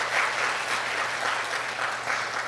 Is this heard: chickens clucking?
no